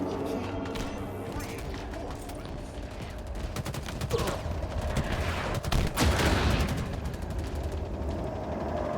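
Constant video game gunfire, with rapid overlapping shots and bursts in a busy firefight that swells louder midway, dense and close throughout.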